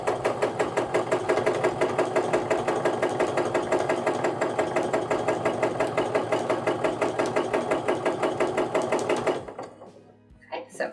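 A sewing machine does free motion quilting on a quilt, its needle running in a fast, steady rhythmic chatter for about nine seconds before stopping, loud and close.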